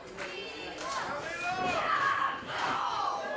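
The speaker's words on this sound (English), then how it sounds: "This crowd trying so hard to will Mila back to her feet." A wrestling crowd at an independent women's match cheers and shouts in a sustained, swelling roar of many voices, rising toward the middle and staying loud throughout.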